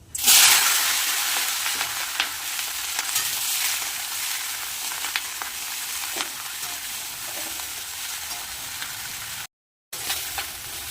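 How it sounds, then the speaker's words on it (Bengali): Chopped vegetables and black cumin fry in hot mustard oil, a loud, steady sizzle that flares up at the start and holds close and constant, with a brief cut to silence near the end. "তেল গরম হয়ে গেছে তেলের মধ্যে দিয়ে দেবো কালো জিরে কেটে রাখা সবজিগুলো দিয়ে দেবো"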